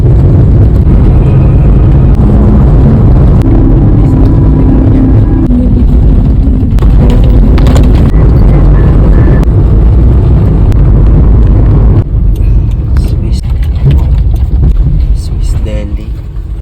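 A car drives along a road on Samal Island toward Kaputian, with a loud, constant engine and road rumble close by and a voice talking over it.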